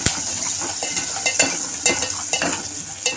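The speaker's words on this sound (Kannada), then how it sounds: "ಈಗ ಸ್ವಲ್ಪ ಫ್ರೈ ಮಾಡ್ಕೊಳ್ಳೋಣ" Mustard seeds, dried chillies, onion and curry leaves frying in oil for a rasam tempering, a steady sizzle broken by repeated scraping stirs of a spoon in the pan at close range.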